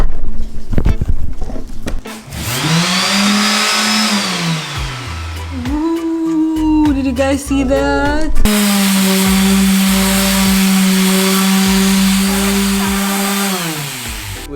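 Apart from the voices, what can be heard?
power sander sanding an old dresser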